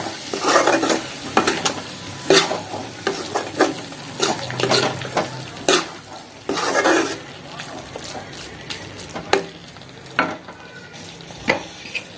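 Onions frying with prawn gravy in a pan, sizzling steadily while a spoon scrapes and stirs in repeated bursts, close and loud, with occasional clinks of utensil on the pan.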